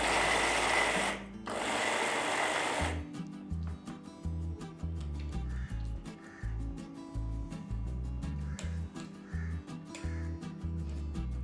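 An electric mixer grinder blends a dry vada pav chutney with a loud, steady whirring roar for about three seconds. Rapid rhythmic chugging pulses follow, repeating evenly until the end.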